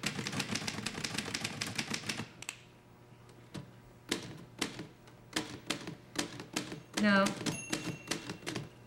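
Rapid clattering keystrokes of a typewriter, a fast burst followed by slower scattered taps and a bell-like ding, with a person speaking briefly.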